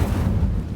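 Incendio fire spell cast in Hogwarts Legacy, heard as a short low whooshing burst of flame, a deep rumbling rush that fades quickly, with no talk.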